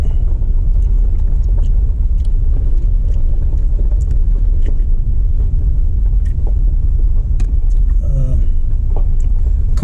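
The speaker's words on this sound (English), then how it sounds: "I just stuck it in 4-wheel drive and just pulled right on through" A vehicle in 4-wheel drive grinds along a rough forest road, with steady loud engine and tyre rumble and scattered knocks and clatters from rocks and bumps.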